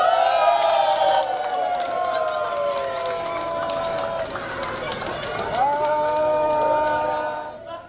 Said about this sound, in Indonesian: Sama-sama semua sambil teriak sama tepuk tangan ya kalau udah dilempar ya